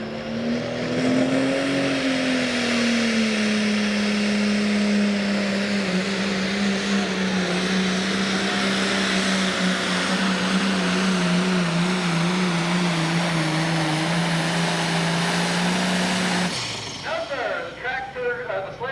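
A two-wheel-drive pulling tractor at a 1995 hot rod association tractor pull in Evansville, Indiana roars loud and sustained at high revs for a long, steady run before abruptly shutting down near the end.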